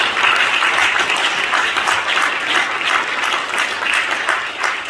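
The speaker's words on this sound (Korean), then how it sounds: "다시 한번 박수 축하해 주십니다." A church congregation at a general assembly and inauguration ceremony gives sustained, loud, dense applause that continues evenly throughout without pause.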